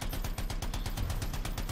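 Rapid automatic gunfire from the video game Anthem rattles in a fast, evenly spaced burst of roughly a dozen loud shots with a heavy low thump.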